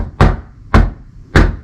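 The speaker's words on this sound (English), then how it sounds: "Can I also get you to just knock on the window, Brett Jones?" Three firm knocks sound on a hotel window at a slow, even pace, each a close, loud thud with a short ringing tail and quiet between them.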